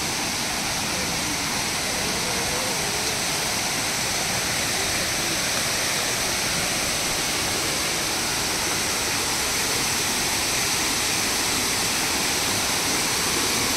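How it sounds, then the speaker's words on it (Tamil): A waterfall on Agasthiyar Hill (Pothigai Malai) roars steadily throughout, a dense broadband rush of falling water that stays loud and constant with no pauses. "எக்கச்சக்கமான ஃபால்ஸ் வருது."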